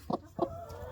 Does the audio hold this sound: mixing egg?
no